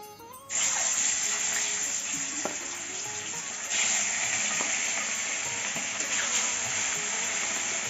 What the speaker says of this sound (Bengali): তেলটা গরম হয়ে গেছে, এখন মাছটা দিয়ে দেবো।